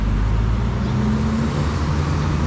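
Cars roll past on a highway beside a roadside eatery in Oaxaca, Mexico, a loud, steady roadway rumble with engines droning close by and no voices.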